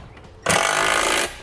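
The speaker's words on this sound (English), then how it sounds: "Using a 9/16 socket, I'm going to come back and snug up all my nuts holding my U-bolt in place." A 9/16 socket on an impact-style tool snugs U-bolt nuts on a Curt trailer hitch receiver on a 2003 Mercedes-Benz, with one loud, close, continuous burst under a second long.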